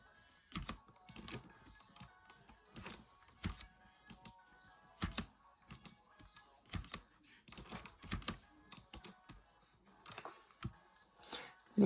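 Irregular bursts of clacking keystrokes on a computer keyboard during gaming practice, with clustered clicks and short pauses between them, fairly close and quiet, with no speech.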